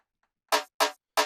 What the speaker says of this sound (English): And the last snare sounds like this.